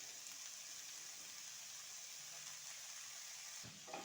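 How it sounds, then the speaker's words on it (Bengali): Capsicum, green chilli and grated potato fry in a pan with a steady, faint sizzle, an even crackling hiss and a brief stir near the end. "এবারে এগুলো একটু খুব ভালো করে আমি ভেজে নেব।"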